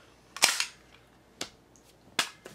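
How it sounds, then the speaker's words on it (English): Three sharp, close shots from a .38 caliber pistol built into a camera, crisp cracks spaced unevenly with brief decaying tails against a quiet background. "Camera and a .38 caliber pistol."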